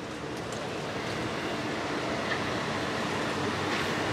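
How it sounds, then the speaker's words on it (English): A Disney Magic Kingdom monorail pulls into the station with a steady, close rumbling rush of rolling wheels and motor, continuous and unbroken, with no talking. "Monorail."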